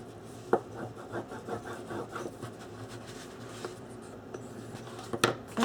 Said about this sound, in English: Burnish that corner there.